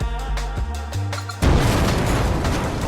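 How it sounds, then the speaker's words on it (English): A bomb in a video game explodes on a gnome: a few descending tonal game notes give way to a sudden loud, broad explosion that rumbles on and slowly fades. "And so we throw the bomb at him, and with a nice headshot"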